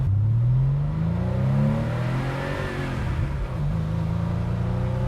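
A 1997 Porsche Carrera 4 Cabriolet with a modified exhaust revs and accelerates, its engine note rising and falling in a smooth, throaty drone heard up close with no talk over it.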